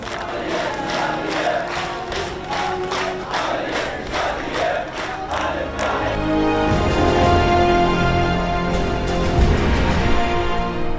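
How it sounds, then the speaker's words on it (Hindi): Mourners at a funeral in Gaza clap in steady rhythmic bursts while chanting slogans, a loud close crowd whose clapping gives way to a dense roar of massed voices. "जो लोग लाशों को दफनाने आए थे वो तालियां बजाकर नारे लगा रहे हैं"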